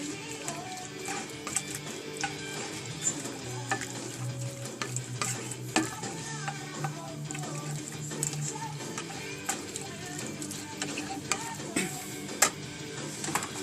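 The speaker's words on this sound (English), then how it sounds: "Go ahead and give us a little bit of a stir." Basil leaves, chili powder and salt get stirred in a pan with oregano, a steady scraping and faint sizzle under scattered small ticks and clinks, low and continuous throughout.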